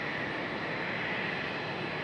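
Fixed-wing airplane flying a go-around at Raleigh-Durham airport, a steady, broad roar of engine noise held at constant loudness throughout with no talk.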